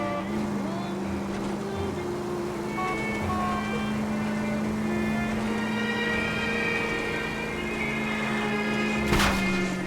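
In the video game L.A. Noire, a car's engine drones at a steady pitch while it drives. The low hum holds constant, with a brief louder rush near the end.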